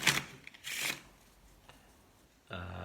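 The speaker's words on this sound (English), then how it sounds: "This is called a riffle shuffle." Playing cards riffle-shuffled, a couple of quick fluttering bursts followed by a short buzzing riffle at the end, quiet and close.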